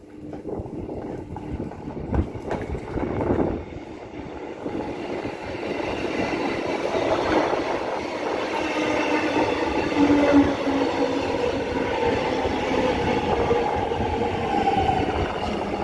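A train on Melbourne's Belgrave Line rumbles past steadily, a continuous heavy clatter and hum that swells slightly and holds for the whole stretch, with no voices.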